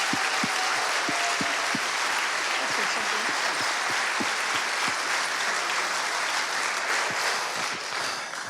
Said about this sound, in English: So can we give them a round of applause for all their work?